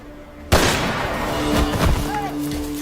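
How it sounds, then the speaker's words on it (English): A sudden, loud gunshot cracks out in a film scene, followed by a rumbling echo and further crackling gunfire that fades over a couple of seconds. "Then there are 2 more shots."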